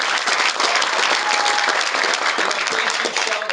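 Sustained applause from a large audience at a political steak fry for the governor, many hands clapping loudly and evenly without pause, with faint crowd noise underneath.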